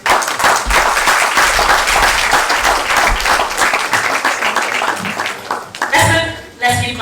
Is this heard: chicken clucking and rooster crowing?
no